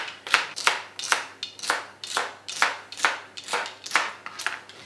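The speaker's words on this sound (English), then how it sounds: "we're going to chop up some celery as well" A knife chops celery on a board in a quick, even run of about ten sharp thuds, close and clear, with no talking.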